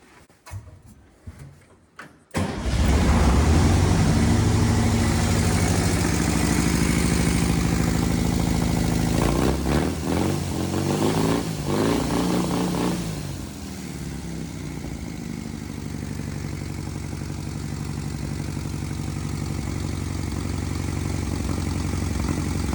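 A rebuilt VW 1600cc engine cranks with a few short bursts, then catches and roars to life, settling into a steady, loud idle with a brief rev midway.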